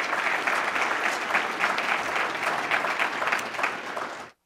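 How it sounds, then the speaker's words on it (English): Audience applause at a business session, a sustained burst of clapping from a crowd that cuts off sharply after about four seconds. "That deserves a round of applause."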